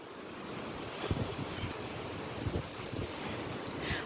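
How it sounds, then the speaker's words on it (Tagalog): Steady wash of ocean surf at a marina in Kuwait, with occasional soft wave swells, mixed with constant wind noise buffeting the microphone outdoors. "ang ganda ng dagat. Maalon."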